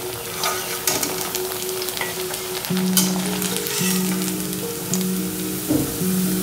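Sweet corn vadas deep-frying in hot oil, a steady crackling sizzle with occasional bubbling pops, close up, while a low tonal background hum runs underneath.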